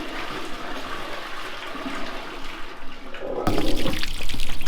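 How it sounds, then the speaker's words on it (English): A toilet flushing as part of a toilet-based water-cooling setup for a PC, a steady rush of water that surges louder and closer near the end. "it's as simple as flushing the hot water away"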